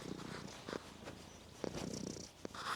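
Pet cat purring close to the microphone, a faint low steady rumble with soft breathy pulses and small rustles, quiet and continuous with no talk.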